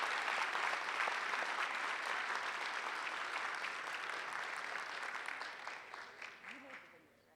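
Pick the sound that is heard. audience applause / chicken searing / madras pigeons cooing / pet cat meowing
audience applause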